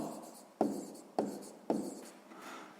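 A pen scratches on paper while a sixth-grade math exercise is worked out, three short quiet strokes starting about half a second apart and each trailing off, recorded close with no voices.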